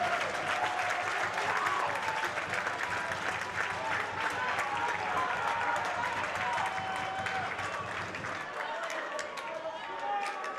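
Wrestling crowd at the Bendix Arena on its feet during a Warrior Wrestling match, a dense, continuous roar of cheering and applause that stays loud throughout and eases slightly near the end.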